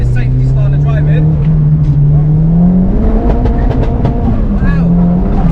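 A 380hp engine-swapped Ford Escort Mk6 accelerates, heard from inside the car as a loud, steady engine drone that climbs in pitch, with people talking over it.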